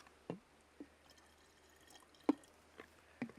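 Salt water poured in small splashes and drips into a pot of Thai pumpkin soup, a few soft liquid plops spaced apart, close and quiet with no talking.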